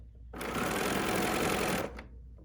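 A Bernina sewing machine runs a seam in one continuous burst of about a second and a half, a close, even mechanical whir with rapid needle chatter that starts and stops cleanly.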